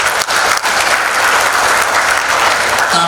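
Dense, steady applause from an audience at an Indonesian corporate address, loud and sustained throughout with no voices standing out.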